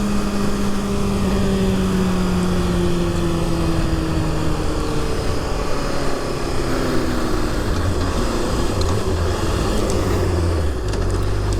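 A Honda CBR 600rr motorcycle is ridden at speed with a loud, steady engine drone under heavy wind noise, its pitch sliding down gradually through the clip.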